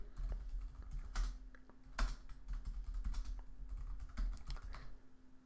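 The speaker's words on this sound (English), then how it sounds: "Just typing it in the chat." Typing on a computer keyboard during a live stream, with uneven bursts of quick key clicks and several louder isolated key strikes, close and clear, with no voices.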